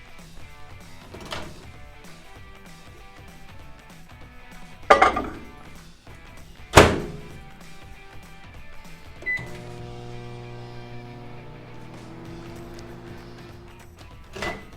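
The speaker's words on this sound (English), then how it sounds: "now we are going to keep in microwave for another 1 minute." A microwave oven runs while heating a mixture for Mysore pak, with a low steady hum, a couple of loud clunks from the door or bowl, and a rising electronic tone near the end.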